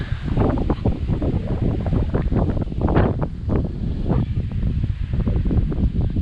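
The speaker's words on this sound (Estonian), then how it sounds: "Jõhker tuul." Strong outdoor wind in Lapland roars and buffets continuously, loud and close with rough rising and falling gusts and no pauses throughout.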